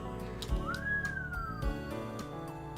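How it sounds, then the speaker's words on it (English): A whistle sound effect from the visual novel Asagao Academy, a single rising then falling tone held for about a second, clear and prominent over soft background music. "I was wondering why there was a whistle for me biting my lip."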